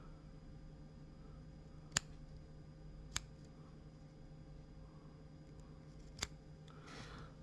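Scissors snipping cotton wick for a Kylin V2 vape atomizer, three sharp isolated cuts spaced a second or more apart over a quiet background hum.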